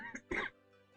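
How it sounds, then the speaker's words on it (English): A single short cough, close and fairly quiet, with a faint throat-clearing quality, heard alone in a quiet room. "Oh, sorry. Random cough."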